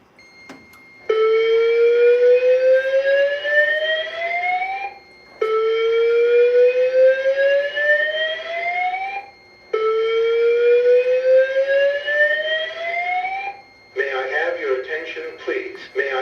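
Fire alarm speaker strobe under test sounding a rising whoop siren three times in a row with short gaps, loud and close, followed by the start of a recorded voice announcement.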